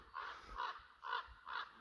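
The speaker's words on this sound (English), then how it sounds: "These are very big birds" Large, noisy birds in the countryside of western Ukraine give four harsh, crow-like caws at a steady rhythm, fairly distant and clear against quiet surroundings.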